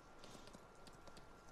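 Horse hooves clip-clop at a steady walking rhythm while riding a horse back to the farm stables in Farming Simulator 19, close and fairly loud against a constant background hum.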